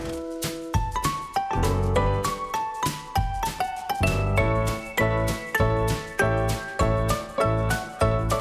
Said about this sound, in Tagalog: Narinig yung tunog ng simbahan?